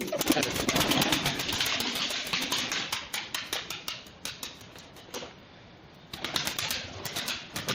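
A pigeon's wings flap in quick, repeated bursts close by at a balcony, the beats coming in rapid strokes, pausing briefly, then resuming.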